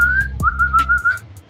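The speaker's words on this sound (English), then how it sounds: "when I was calling the dog, I was blowing a whistle" A whistle blown to call a dog, a sustained steady tone with a short break, then a second long note, loud and close.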